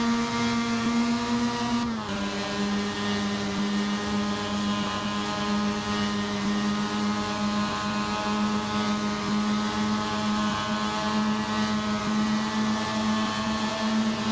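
Mazda MX5 race cars in the Assetto Corsa racing game at Homestead, engines held at high revs in a steady sustained drone, with one brief pitch drop early on like a gear change before the note settles and carries on.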